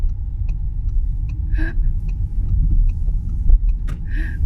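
A car driven slowly along a residential street, heard from inside as a steady low engine and road rumble with faint light ticks, fairly loud and continuous, with no talking.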